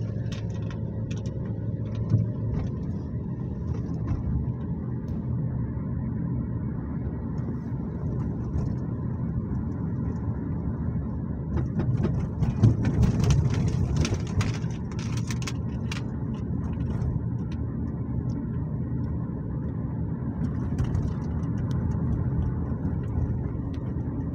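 Steady traffic hum of cars passing on a road in Saudi Arabia at a moderate distance during rainy weather, with a louder vehicle swelling past midway through.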